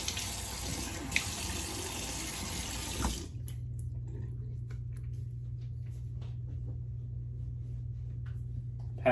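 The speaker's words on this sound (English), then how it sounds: "I'll go ahead and rinse off that alum." A bathroom tap runs to rinse alum off the face after a shave: a loud, steady gush that stops abruptly, leaving a low hum and faint clicks and knocks.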